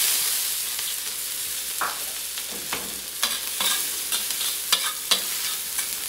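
Garlic frying in oil in a pan for salmon belly fried rice, with a low steady sizzle and repeated sharp spatula scrapes and clinks that grow more frequent toward the end.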